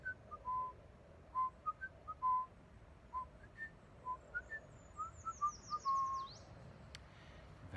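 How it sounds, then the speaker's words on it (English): Someone whistles a light little tune in short, bright notes with small pauses, faint and alone over a quiet background, ending in a quick rising and falling trill. "Along the way, she whistled a little tune."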